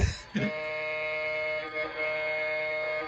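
After a brief thump, a steady multi-tone horn from a model locomotive sound set holds for about three seconds, loud and sustained without a break.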